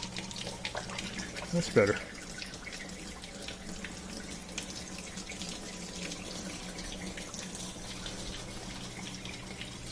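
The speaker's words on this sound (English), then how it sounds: "Flowing, but kind of anemic." Water drains from a Kenmore portable dishwasher in a steady, fairly quiet, continuous rush, with a brief voice and a small bump near the start.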